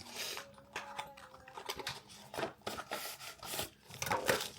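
Yunzii Cat keyboard accessory box being opened: close, quiet rustling of cardboard and packaging with irregular scrapes, taps and crinkles over a few seconds, no voices.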